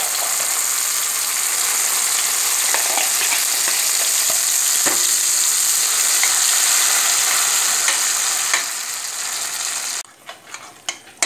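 Masala paste sizzling and frying in hot oil with curry leaves for a squid curry, a steady loud crackle throughout that drops away near the end, leaving scattered stirring clinks.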